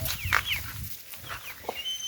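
Backyard hens in a garden coop cluck in short, scattered calls over quiet outdoor background, with a few higher squawks early and a single louder cluck near the end.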